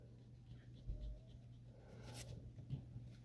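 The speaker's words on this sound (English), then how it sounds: "Then I can erase that line." An eraser rubs across paper to remove a drawn line in an armor design sketch, faint soft scrubbing strokes close by in a quiet room, with a brief brighter scrape near the end.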